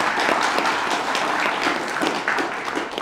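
Audience applause at a professional service awards ceremony, dense continuous clapping from a sizable crowd, loud and close, sustained for a few seconds without speech.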